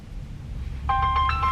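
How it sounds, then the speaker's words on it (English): A mobile phone rings with an incoming call inside a vehicle on a winter road trip through Nevada, an electronic ringtone of repeated tonal bursts starting partway through over a low road rumble. "that a phone call?"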